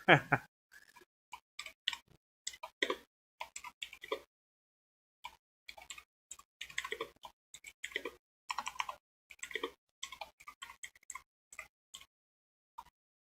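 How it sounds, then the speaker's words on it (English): Rapid bursts of sharp, clicky keystrokes on a loud mechanical computer keyboard, close and fairly prominent, coming in irregular runs separated by short pauses. "really loud and clicky keyboard doesn't help"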